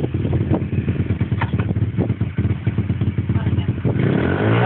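Pit bike engine revved hard with too much throttle, a close, loud, buzzing motorcycle drone with rapid pulsing firing and clattery mechanical noise that holds steady throughout.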